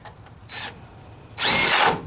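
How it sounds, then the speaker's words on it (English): Power drill driving screws into a hurricane bracket on treehouse rafter framing, a short whir followed by a longer, louder burst of drilling, close by and with no speech. "I got 2 more screws to put into this last hurricane bracket."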